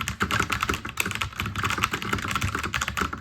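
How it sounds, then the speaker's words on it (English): Magegee MK Storm typewriter-style mechanical gaming keyboard keys clack rapidly and continuously at close range, a busy stream of crisp typing strokes with no talking. "it has a nice clickety clackety sound to it."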